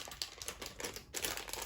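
A crinkly plastic packet of cheesecake-shaped gummy sweets being opened, a soft, continuous rustling and crackling of wrapper handled close by, with no talking.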